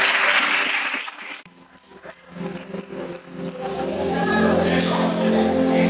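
Congregation applause during a church sermon, a loud wash of clapping that dips briefly, then builds back up and continues strongly to the end.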